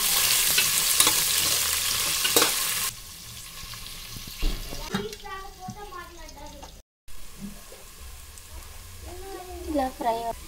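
Onions frying in a pan for vegetable biryani, a steady broadband sizzle that is loudest at the start, then continues more quietly beneath intermittent voices, with one brief dropout.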